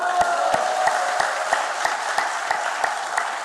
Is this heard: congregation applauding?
yes